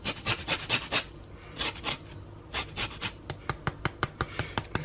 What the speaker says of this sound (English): So I'm just going to use microplane grater and grate all of the lemon rind over.